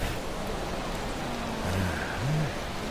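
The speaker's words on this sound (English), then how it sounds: "It's raining again." Steady broadband hiss of rain in the video game Yakuza 4, a constant even wash of falling water with a few faint tonal game sounds surfacing near the end.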